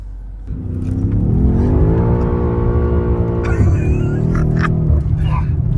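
A BMW X6M SUV in two-wheel drive mode revs hard and accelerates up close, its engine note climbing, dipping as it shifts, then pulling again with tire noise.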